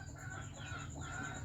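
Backyard chickens being raised and fed cluck faintly over a low, steady background hum, a few soft calls heard from a distance with no one speaking.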